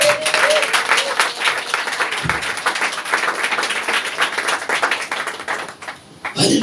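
A church congregation applauding and cheering, with dense, loud clapping that keeps on for several seconds, mixed with crowd voices, then briefly thins out before picking up again at the end.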